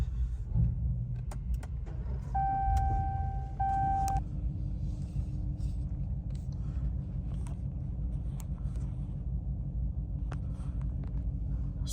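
A 2022 Ram 1500 Bighorn pickup cruises on the highway, heard from inside the cab as a steady low engine and road rumble, with a brief electronic chime tone and a few faint clicks.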